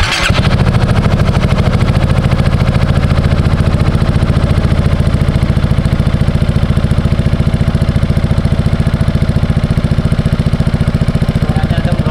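Yamaha XMAX scooter fitted with a silver and black Akrapovic Slovenia exhaust with DB killer installed, idling steadily and loud up close with a pulsing throb and slight rises in revs throughout.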